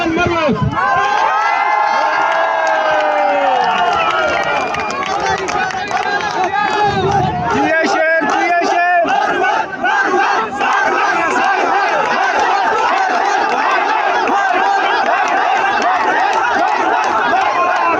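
A large crowd at a political rally roars and cheers for Sher Afzal Khan Marwat, a loud, sustained wall of shouting and chanting voices that builds into rhythmic collective cries and stays dense throughout.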